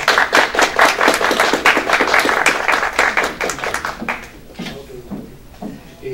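A live audience claps enthusiastically at a cultural festival event at the Instituto Politécnico Nacional, steady dense applause at close range that thins out and fades over the final seconds.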